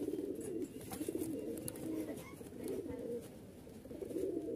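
A pair of deep red pigeons coo softly in repeated low, throaty phrases, close by but quiet, with faint background chatter.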